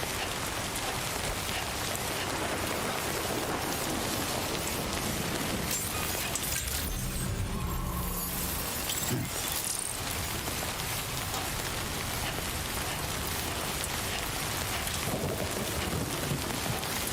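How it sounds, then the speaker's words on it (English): Steady rain pours continuously at close range, a dense even hiss across the whole stretch with a few heavier low rumbles midway that may be distant thunder. "Those raindrops are falling on my head."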